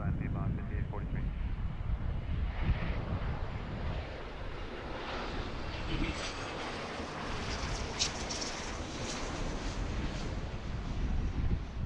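Jet airliner arriving on runway 35 at Philadelphia airport, a steady broadband roar with wind buffeting the microphone and surf-like rushing throughout, loud and continuous without clear speech.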